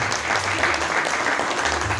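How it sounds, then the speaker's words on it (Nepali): Continuous audience applause at an honoring ceremony during a talent-search grand finale, a steady dense clapping that holds at even loudness throughout. "ताली निरन्तर बजिनुहोस् सम्मानको क्रममा।"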